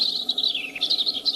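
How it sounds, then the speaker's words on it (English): Small bird singing in a tree outdoors, a steady run of bright, high chirps and trills close by, looping quickly with no talking. "I noticed the bird singing in the tree."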